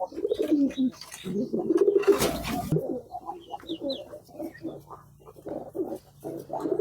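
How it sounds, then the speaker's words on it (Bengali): Pigeons coo softly as they eat grit feed mixed with crushed brick and eggshell, giving a few low, close murmuring calls over faint background noise. "আর এখন কবুতরগুলোকে গ্রিড খাবার দেব"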